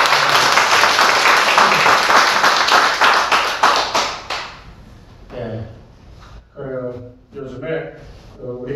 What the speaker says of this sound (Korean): 한번 박수로.